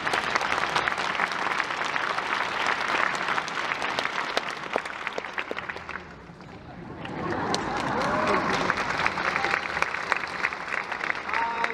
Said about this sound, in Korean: 다 같이 큰 박수로 환영해 주시기 바랍니다